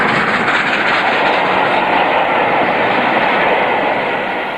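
Steam locomotive Tangmere hauling a VSOE special train out of London Victoria toward Bath, a loud, steady rushing roar of wheels and carriages passing close by without a break.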